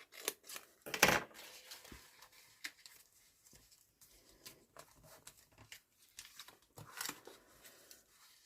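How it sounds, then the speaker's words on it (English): Crisp snipping of scissors through paper, several short cuts in an irregular rhythm, close and fairly quiet with no talking. "you just cut with scissors to the centre crease."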